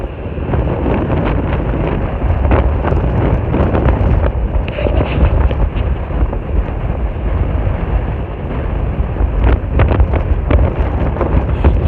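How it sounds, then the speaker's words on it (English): Strong wind roars continuously across the microphone while riding an Evolve Bamboo GTR electric skateboard along a beach front, a loud, steady buffeting rumble with no talk. "So windy, takes it right out of the battery, makes it difficult to ride and film"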